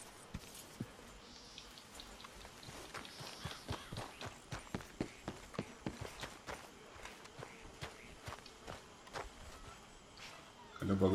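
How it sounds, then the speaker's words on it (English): Hooves clip-clop steadily on a dirt trail in Red Dead Redemption 2, a run of evenly spaced, fairly close hoofbeats across most of the stretch with a soft outdoor ambience, ending in a brief louder thump. "Tá cheio de cavalo aqui, meu."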